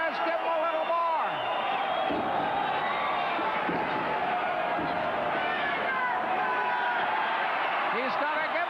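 Crowd noise at a Stu Hart 50th anniversary pro wrestling show: a steady, loud roar of cheering and hubbub in an arena, running continuously beneath a commentator's voice.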